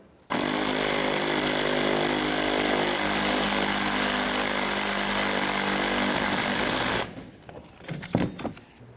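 An impact-style power tool runs hard in one loud, unbroken burst of about seven seconds, snugging a nut on the front shock of a 1998-2011 Ford Ranger. A few quieter clanks and handling noises follow.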